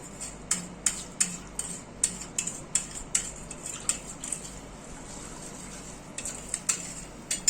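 Vermicelli cooking with milk in a pot is stirred with a metal spoon, giving a string of sharp, close clinks and taps against the pot's sides at an uneven rhythm over a quiet, low simmering background.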